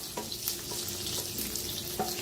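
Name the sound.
small green chillies sizzling as added to hot pan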